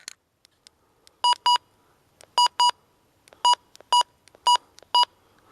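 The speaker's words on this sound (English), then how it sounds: "So let's try the button beeps first." Button beeps from a Midland HH54VP2 handheld weather radio, sounding as paired and single short high electronic tones spaced across several seconds in a quiet room.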